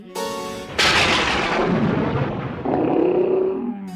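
A loud thunder sound effect in a devotional Narasimha tableau performance bursts out and rolls away into a long rumble, followed by a second heavy rumbling roll.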